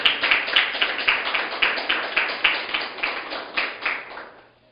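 Congregation clapping during a church sermon, a steady run of hand claps with a dense, roomy wash that holds for several seconds, then fades out at the end.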